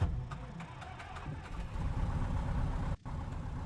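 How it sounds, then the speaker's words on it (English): A light aircraft engine runs at a steady idle in a flight simulator game after start-up, a continuous low drone that is fairly loud, with a short sharp dropout near the end and no talking. "let's start the engine and go flying"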